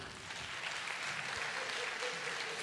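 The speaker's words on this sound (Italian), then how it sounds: "Applausi!" Faint, steady applause from a theatre audience at a Sardinian film and culture event, a soft continuous patter of many hands heard from a distance.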